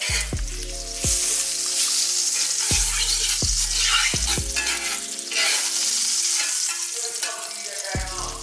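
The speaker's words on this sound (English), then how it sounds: "So I'm gonna add some butter to this pan" Butter sizzles and fries steadily in a hot pan before grass-fed organic ribeye steaks go in, a loud continuous crackle broken by a few sharp low knocks and clanks of the pan, with no talk.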